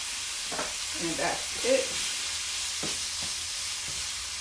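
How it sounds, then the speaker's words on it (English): Food sautés in a pan with a soft, steady sizzle and hiss running underneath a person speaking briefly. "I'm gonna saute until I get to a good place with this."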